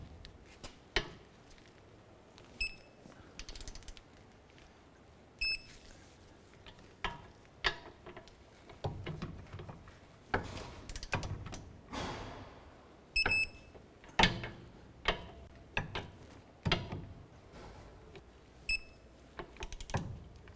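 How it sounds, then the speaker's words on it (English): Sharp metallic clicks from a torque wrench tightening the wheel hub bolts on a 2008-2012 Honda Accord rear hub and bearing assembly, arriving in irregular bursts over a steady workshop hum, close and fairly loud. "Go ahead and torque these bolts down to 73 foot-pounds."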